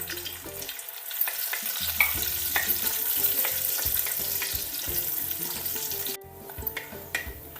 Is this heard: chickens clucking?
no